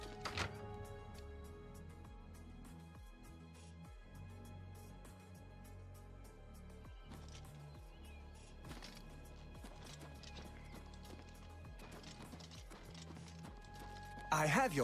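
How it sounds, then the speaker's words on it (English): Horse hooves clip-clop in a video game, a run of distinct percussive hoof strikes spread through the stretch among other game sounds, with a louder burst near the end. "I have your horse right here."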